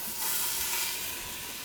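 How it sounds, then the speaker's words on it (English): Pork sears in a hot Instant Pot, giving a loud, steady, close hiss of sizzling fat and steam that holds evenly for under two seconds with no voice. "we're just gonna sear them on each side for about 2 or 3 minutes"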